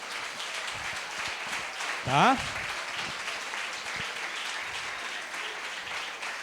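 Church retreat congregation clapping in praise during a sermon, a continuous crowd applause with a man's short spoken interjection rising briefly above it.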